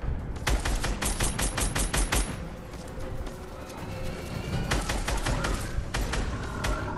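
Rapid bursts of mounted turret gunfire in Fortnite during a chaotic live end event, with clustered rattling volleys at the start and again near the end, loud and close over a dense background of battle noise.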